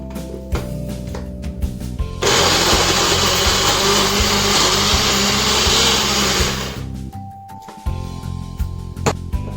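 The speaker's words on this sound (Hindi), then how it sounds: "थोड़ा सा गुरगुरा पीस लिया" An electric grinder coarsely grinds spices for missi roti in one loud, whirring burst of about four seconds, with quieter clatter of kitchen handling before and after.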